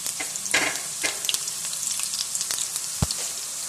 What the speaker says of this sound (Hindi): इसके अंदर जो बारीक प्याज काटा था सबसे पहले इसको शामिल करेंगे और इसको हमने ठीक ब्राउन करना है